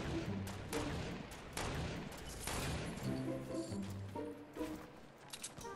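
Gunfire in the Fortnite Battle Royale video game: repeated loud shots and blasts in bursts, with some echoing booms during a sniper shootout, heard alone without talk.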